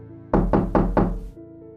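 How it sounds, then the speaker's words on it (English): Four loud, evenly spaced knocks on a door in the middle of the night, sharp thuds close by over a faint steady hum. "only to wake up to the knocking again"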